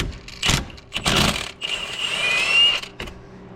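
Impact wrench spinning out inner fasteners on an Audi A4 with an M10 triple square bit during transmission output shaft seal work: two short bursts followed by a longer sustained whine, close and loud.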